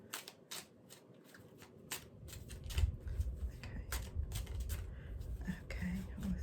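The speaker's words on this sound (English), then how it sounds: "shuffle these a little bit for you" Tarot cards are shuffled by hand in a run of crisp riffling bursts and soft slaps, close and clear, with quiet talk faintly underneath.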